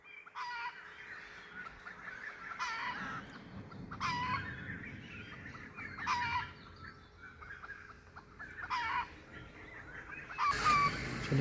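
Agitated jungle fowl give repeated loud, harsh calls in bursts every couple of seconds, fairly close, with a sharper burst at the very end.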